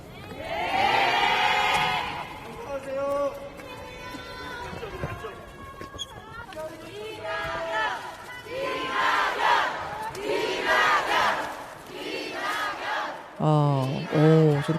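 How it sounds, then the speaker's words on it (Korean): A political rally crowd cheers and shouts in waves, loud and massed, with a speaker's amplified voice breaking through between bursts of roaring approval. "저렇게 환호도 나오고"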